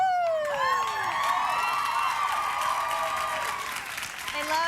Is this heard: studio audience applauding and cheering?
yes